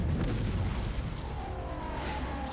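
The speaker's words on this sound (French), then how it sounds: "Ils sont soudain surpris par le bruit d'une explosion." A De Havilland Comet 1 airliner explodes in midair, a dense, loud, low rumbling boom that fills the whole moment with deep roaring energy and slowly settles.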